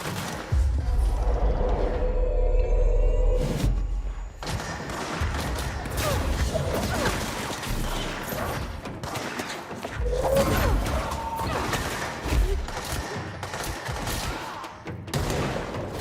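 Dense gunfire in the video game Control, bursts and volleys of shots layered with booms and mechanical clatter throughout, loud and close, with occasional voices under the fighting.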